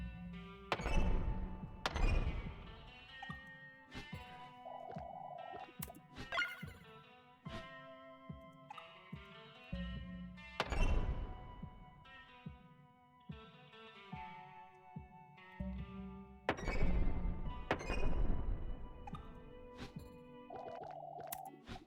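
Bomb drop in the cartoonish strategy game Click and Conquer: repeated hollow, distorted thunks and booming thuds with short tonal effect chirps between them, loud and close.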